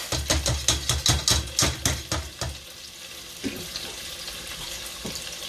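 A pot of boiling water for brown rice as the rice goes in: a quick run of rhythmic splashing, pouring bursts for a couple of seconds, then a steady low bubbling hiss close by.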